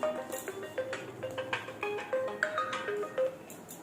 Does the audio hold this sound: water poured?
no